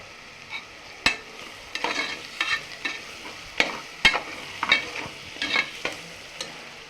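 Five garlic cloves and a piece of ginger sauté in a pan for tomato rice, crackling and sizzling under repeated sharp scrapes of a stirring spoon, close and loud with no voices.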